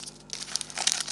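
Tea bag packets crinkling as they are handled and torn open, a soft rustle building into louder crisp crackles near the end, close and alone without talk.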